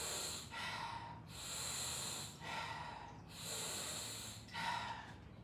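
A person demonstrates running breath, exhaling forcefully out to the side in three long hissing breaths with short pauses between them, close and alone.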